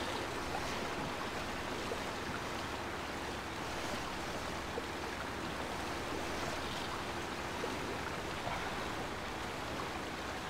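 Water sloshing and rushing around a truck wading through a flooded route in the Mudrunner video game, a steady broadband wash lasting throughout with no talk over it.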